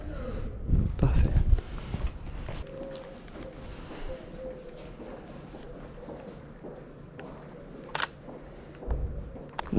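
A single-lens reflex camera shutter clicks sharply a few times while photographing a street lamp on a small street in Angoulême, with outdoor wind, footsteps and handling noise between the shots.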